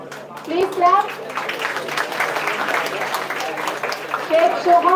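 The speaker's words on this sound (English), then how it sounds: "please clap." Students applaud at a college convocation ceremony, a dense, steady wash of many hands clapping from start to finish, with an announcer's voice heard at the beginning and end.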